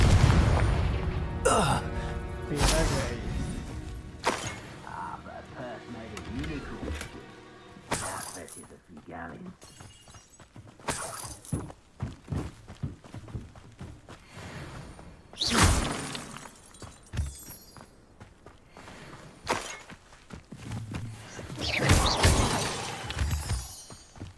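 Repeated Confringo fire-spell blasts crack and boom in Hogwarts Legacy PC gameplay, mixed with shattering bursts and game noise. A player's voice talks loudly over the action throughout.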